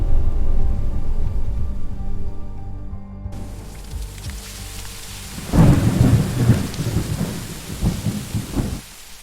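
A loud, close roll of thunder rumbles during a lightning storm, then a fresh crack booms halfway through and tails off in several rumbling waves, with heavy rain hissing steadily underneath.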